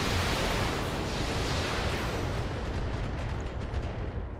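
An LRM missile volley fired as indirect fire in the Battletech video game, a loud, continuous roaring rush of launches and distant impacts that slowly eases over a few seconds.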